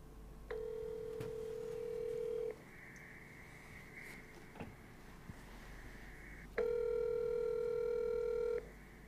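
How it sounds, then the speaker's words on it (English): A desk telephone's dial button is pressed, and a long tone is followed by a higher tone, then another long tone with harmonics. The tones sit in a quiet room with faint clicks between them. "Now we're going to press the dial button."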